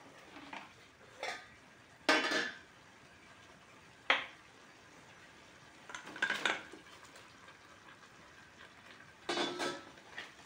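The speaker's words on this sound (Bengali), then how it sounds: "এর মধ্যে এবার চিকেনটা মিশিয়ে দিই।" Chicken being stirred into a simmering pot of Afghani chicken sauce: intermittent scraping and clinking of a spoon against the pot in short irregular bursts, close and fairly quiet with no talking.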